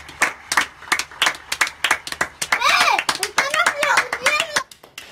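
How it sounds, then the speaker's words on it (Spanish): Children clap from windows at 6 in the evening during the coronavirus lockdown, giving a dense, rapid patter of many hands that swells into a steady burst. Children's high voices ring out over the clapping toward the end. "los niños y niñas a las 6 de la tarde, que se han asomado a la ventana para participar en este aplauso"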